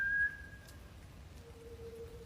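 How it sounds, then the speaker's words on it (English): A thin, steady whistle rings out from the woods during a nighttime film shoot, sliding to a lower, softer held tone after a short pause. It sounds distant against a quiet background. "they suddenly hear a loud whistle coming from the woods"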